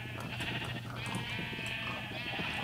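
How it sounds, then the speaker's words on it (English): Sheep bleat repeatedly in Minecraft over a steady background hum, the calls overlapping and fairly close, with no talking. "I got some sheep over here, and with sheep we can shear them with the shears to get wool."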